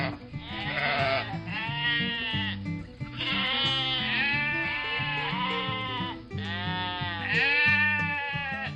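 Sheep bleat again and again in spring, ahead of shearing for their wool, with loud, wavering calls repeating over a steady rhythmic background throughout.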